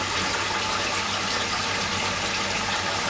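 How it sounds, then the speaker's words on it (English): Water pouring into the tank of an MAS 250V pump system, a steady, close, rushing gush that stays constant throughout, with no voices. "We're going to fill the system with water. And you can see the tank filling up."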